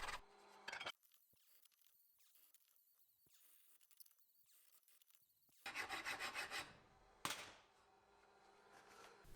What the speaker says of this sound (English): followed by a quick filing